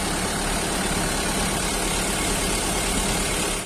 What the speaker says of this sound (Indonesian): Ini masuk ya rombongan unit bus Bus Sumatera